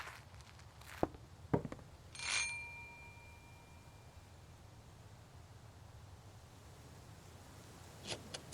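A doorbell gives one short, bright chime in a quiet indoor space, with a few soft clicks and footsteps before it and a faint ring afterward.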